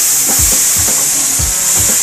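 BBQ ribs sizzling loudly on a grill, a constant bright hiss up close with a few soft thumps and scrapes as the meat is flipped.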